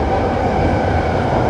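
Interior running sound of a Toei 5300 series commuter train on a Tokyo line toward Haneda Airport, a loud steady rumble and hum of wheels and motors that holds constant throughout.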